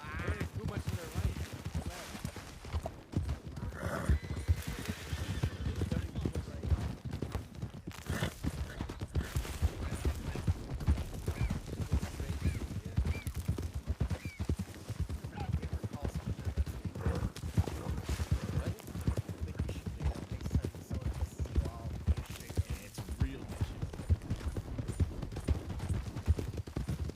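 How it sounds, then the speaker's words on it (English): Horses clip-clopping in a video game, a dense, continuous patter of hooves over about half a minute with occasional whinnies, steady and fairly loud under intermittent voices. "These are horses."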